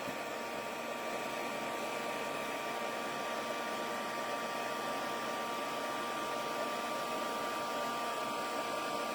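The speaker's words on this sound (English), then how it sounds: "And now we're going to emboss this with our heat tool." An embossing heat tool blows continuously on embossing powder with a loud, steady whooshing hiss and a faint high whine, close by and unbroken throughout.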